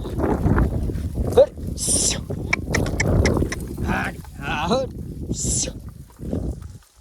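Goats bleat a few times in short, high calls while several people talk loudly over a busy outdoor background as the goats are herded to graze.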